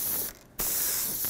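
An airbrush sprays paint for realistic flame artwork: a close, steady hiss of air and paint that breaks off briefly, then resumes and continues.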